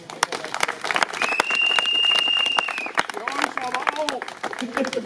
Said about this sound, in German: Applaus nochmal für Arndt.